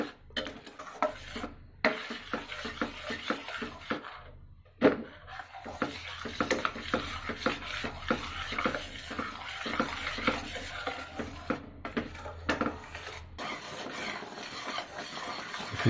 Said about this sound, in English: You have to stir continuously.